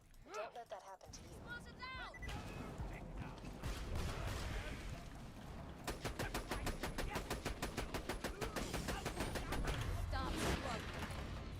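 Gunfire in Borderlands: rapid bursts and steady automatic fire rattle fairly loudly over continuous game effects, with a brief voice near the start.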